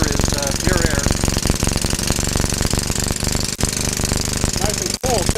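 A hydrogen-fueled HP engine revs loudly nearby, a harsh, dense, rattling drone held steady throughout with a couple of brief dips, while people talk over it.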